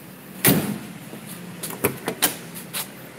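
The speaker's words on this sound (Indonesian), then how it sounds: "Kita coba pintu tengahnya." The middle door of a 1964 Holden Special station wagon is handled, with a sharp metallic latch clack followed by several lighter clicks and thuds, close and distinct, with no talking.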